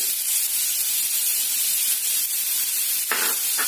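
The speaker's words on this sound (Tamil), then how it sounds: "ஒரு 2-3 ஸ்பூன் எண்ணெயை விட்டு மெல்லிசா பொடியா நறுக்கி இருக்கிற வெங்காயத்தை போட்டு" Steady loud sizzling of chopped onions frying in hot oil, a constant bright hiss close by, with a brief clatter near the end.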